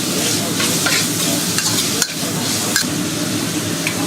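Minced pork sizzles in a wok with chopped garlic and ginger, a steady close frying hiss running throughout with scraping stir strokes and a couple of sharp clacks from the utensil.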